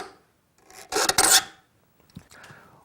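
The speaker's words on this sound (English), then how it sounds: "One really nice thing about hand filing your own saws is that you can experiment with the geometry of the sawtooth." A hand file rasps across the teeth of a crosscut saw in one loud, close stroke, then a shorter, fainter stroke follows after a brief silence.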